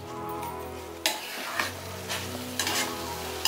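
Tomato paste being stirred and sizzling in a pan for chana masala, a steady frying crackle broken by several sharp spoon scrapes against the pan, close up with a faint tonal hum behind.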